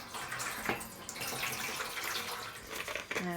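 Water poured from a tap into a yarn dye pot holding leftover orange dye, a soft continuous splashing rush over a few seconds, quiet and close.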